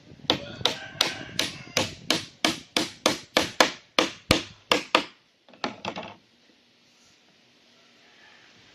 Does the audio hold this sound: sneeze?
no